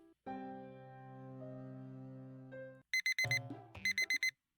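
An alarm clock in the Doki Doki Literature Club video game rings with a long sustained electronic tone, then breaks into a rapid run of sharp, bright beeps in quick pulses, heard alone.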